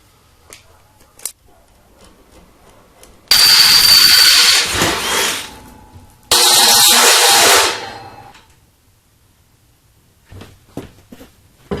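A power drill bores bolt holes into a steel Vevor welding table, running in two loud sustained bursts of whining, grinding cutting with quieter clicks and handling sounds between and after.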